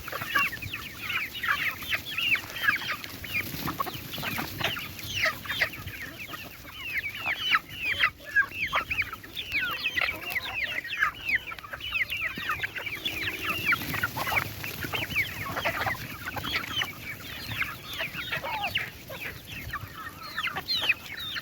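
A flock of hens and chicks fed onion cluck busily and continuously close by, overlapping chatter with occasional louder calls and no talking.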